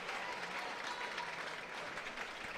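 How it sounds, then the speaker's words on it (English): Applause rises from the sideline at a women's rugby semi-final, a steady, dense patter of many clapping hands heard from a short distance, without talk. "giving her the applause"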